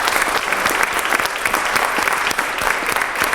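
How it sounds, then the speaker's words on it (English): An audience at a school district event claps for a grade team, giving a dense, lively round of applause with sharp individual claps standing out over the crowd. "A huge round of applause for the 3rd and 4th grade team."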